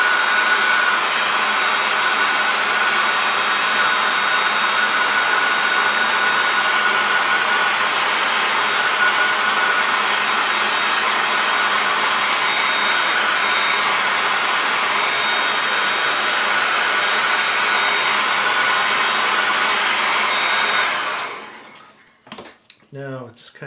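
Hair dryer blowing on an image transfer laid on tile, a loud steady roaring whoosh held for about twenty seconds before it cuts off, then a few brief soft sounds.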